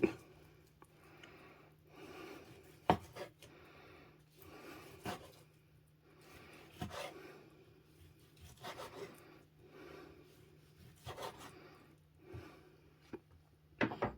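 Knife slicing through homemade summer sausage, a series of soft rasping cuts in an uneven rhythm with occasional sharper knocks against the board, quiet and close.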